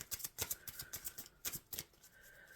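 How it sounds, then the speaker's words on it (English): Tarot cards shuffled by hand during a reading, a quick run of soft crisp riffling snaps and slaps repeating in an uneven rhythm, close and fairly quiet, with no talking. "I'm shuffling for the concluding message for our"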